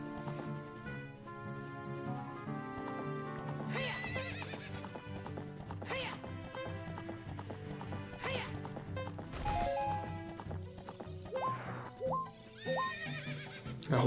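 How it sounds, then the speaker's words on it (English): Horse in The Legend of Zelda: Ocarina of Time neighing and bucking, with loud whinnies, hoof clip-clops and thuds over game music. "A horse bucking."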